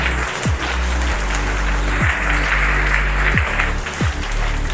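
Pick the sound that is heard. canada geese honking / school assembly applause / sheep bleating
school assembly applause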